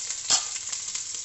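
Crushed ginger and garlic hitting hot oil with browned onions in a pan, a soft continuous sizzle with one brief louder burst of frying near the start, close and without speech.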